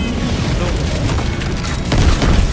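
A dense, rumbling roar of booming explosions in Helldivers 2 fills the clip, loud and sustained, with a heavier surge near the end and muffled voices underneath.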